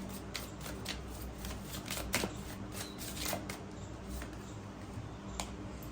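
A tarot card deck being shuffled close by, quiet riffling and flicking of cards in quick irregular bursts over a soft background hum.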